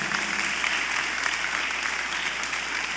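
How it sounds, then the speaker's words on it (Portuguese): A crowd claps steadily and loudly for several seconds, a dense, even wash of applause with no pauses. "Dá uma salva de palmas"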